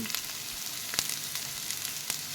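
Onions and garlic frying in a pan for a sardine dish, giving a constant close sizzle broken by a few sharp scrapes and taps of stirring.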